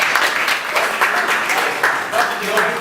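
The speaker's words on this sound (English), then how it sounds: "Let's clap back for your" Audience clapping on a radio show, a steady burst of applause with some voices mixed in, loud and close throughout.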